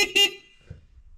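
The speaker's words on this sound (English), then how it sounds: "So it's got a pretty loud horn." A loud horn on a Hightop HT20 Chinese mini excavator gives a short, bright blast of about a quarter second, then falls away to quiet low rumble.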